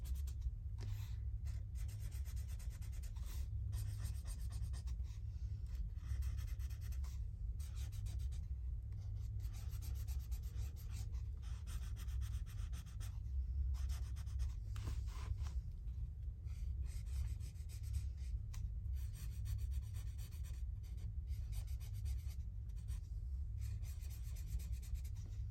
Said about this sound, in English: The nice thing about the alcohol markers is even though you might rub over it a few times, see I'm going over that a few times